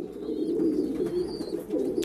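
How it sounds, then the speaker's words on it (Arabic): Pigeon squabs in a loft cheep and coo, a soft continuous murmur of low cooing with faint thin chirps above it, close and steady over two seconds. "الزغاليل بتصاصي عليهم اهو"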